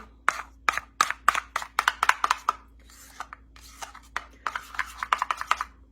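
A spoon stirring honey mustard sauce in a bowl, making a quick series of sharp clicks and scrapes against the sides, close and fairly quiet, with a short pause midway before the rhythm resumes.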